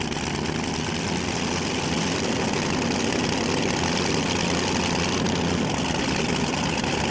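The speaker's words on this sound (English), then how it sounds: "they're still trying to restart 2 of the engines" Multi-engine pulling tractors running at a Eurocup tractor pulling event in Hajdúböszörmény, Hungary, giving a loud, steady, dense engine roar with a deep low rumble throughout.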